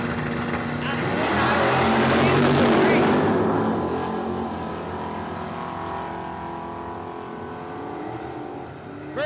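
Drag racing cars at a quarter-mile dragway roar down the strip, the engine noise swelling loudly and then fading into the distance over a steady background rumble, with a track announcer talking throughout.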